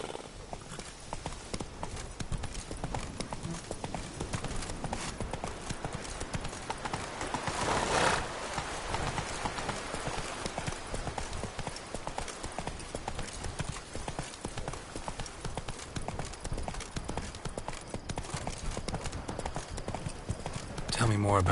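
Horse hooves in the video game The Witcher 3: Blood and Wine, a steady, close clip-clop at a trotting rhythm with a brief whinny partway through, under other game sounds.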